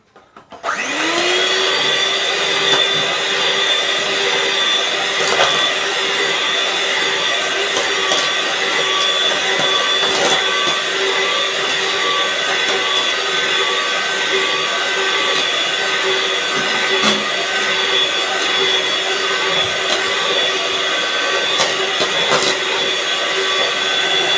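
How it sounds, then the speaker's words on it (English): An electric mixer whirring loud and steady for a long stretch while cake batter is beaten after eggs are added, a constant motorized drone with no voices. "and then you mix it again"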